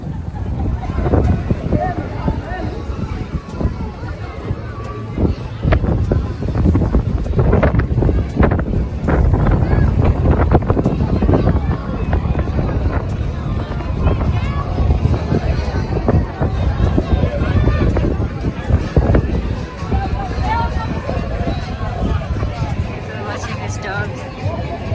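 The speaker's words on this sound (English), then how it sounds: "It's been constantly windy this side." Strong wind at Benidorm beach on a red-flag day roars across the microphone in loud, continuous gusts for the full length. A faint babble of people sits underneath it.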